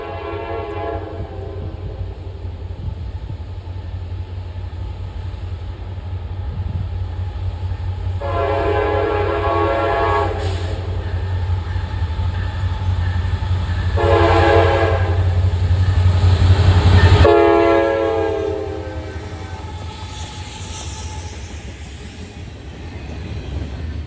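The K5LA air horn on SD60E locomotive 6959 sounds in several loud, sustained chords of varying length over a constant low engine rumble, with no talk.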